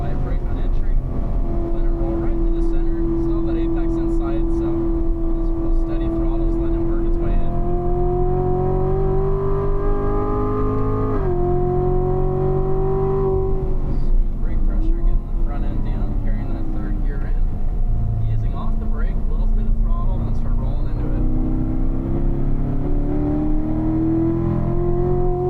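Performance car lapping a race track at speed, its engine a steady loud drone from inside the cabin that climbs and drops in pitch with shifts and corners, while someone talks over it.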